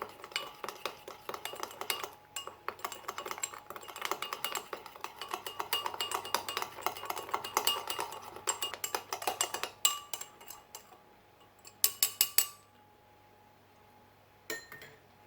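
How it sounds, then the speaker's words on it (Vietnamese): A spoon stirs a dalgona whipped coffee mixture of instant coffee, sugar and warm water in a cup, making rapid rhythmic clinking against the sides for about ten seconds, then a few slower taps, with no talking. "Khuấy cho tan cái hỗn hợp này."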